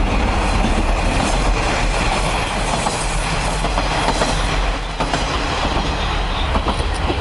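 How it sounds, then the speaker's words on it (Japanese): A two-car Kiha diesel local train rolls past close by on a rural line in Japan, a loud steady rumble with rhythmic wheel clatter and faint squeal lasting throughout, no talking. "普通列車ディーゼルカー2両"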